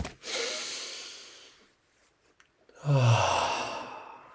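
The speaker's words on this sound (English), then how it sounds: "Sometimes you just need to take a break and breathe in gently." A person draws two slow, audible breaths, each a long airy inhale tapering into a soft exhale with a brief quiet gap between, close and clear with no talking.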